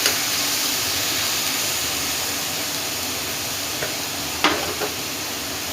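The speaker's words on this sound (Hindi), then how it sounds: "इसको थोड़ा सा हम हिला लेंगे, और साथ ही मैं टमाटर ऐड कर दूँगी।" Chicken with tomatoes sizzles and bubbles in a pan on a home stove while being stirred, a steady frying hiss throughout with a few faint scraping clicks of the spoon near the end and no talking.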